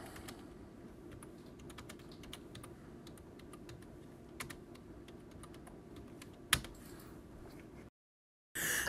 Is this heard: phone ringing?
no